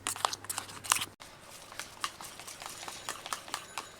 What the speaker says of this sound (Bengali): এবার খুব ভালোভাবে ব্যাটারটা তৈরি করে নেব।